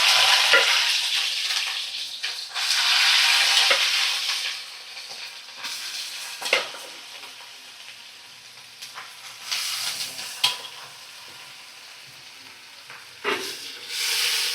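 Boiled banana stem tipped from a pressure cooker into hot oil, frying with a loud sizzle that gradually settles, broken by repeated scraping and clattering stirs in the pan.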